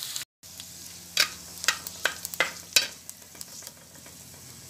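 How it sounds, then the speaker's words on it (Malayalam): Chopped shallots sautéing in a pan for Kottayam-style fish curry: a steady oily sizzle after a brief cut-out, punctuated by a run of sharp spoon scrapes and taps against the pan. "ചെറിയ ഉള്ളിയും കൂടെ ഇട്ട് കൊടുത്തിട്ട് നന്നായിട്ട് വഴറ്റി എടുക്കാം"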